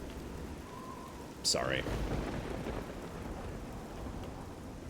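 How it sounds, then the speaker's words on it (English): Rain falls steadily with a rumble of thunder in The Elder Scrolls IV: Oblivion, a broad noisy wash with a louder burst partway through, while a voice speaks briefly over the weather. "And here comes the rain again."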